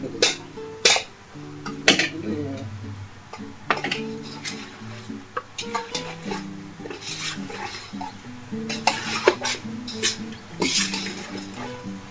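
A spoon stirs fried chicken with pickle masala in a metal pot, repeated scraping and clanking strikes against the pot at an uneven pace, with a soft sizzle beneath and no talk.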